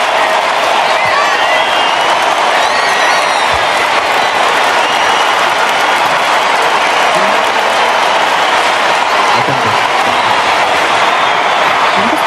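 A packed football crowd at the Santiago Bernabéu stadium gives an ovation, a huge, continuous roar of cheering and applause with whistles cutting through. It stays loud and unbroken from start to finish.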